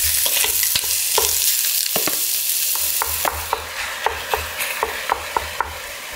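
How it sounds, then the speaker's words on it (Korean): Olive oil heating in a large pot for tomato sauce, giving a soft steady sizzle with scattered sharp utensil taps and scrapes against the pot, close and without talk. "큰 냄비에 올리브오일을 두르고 불을 올립니다."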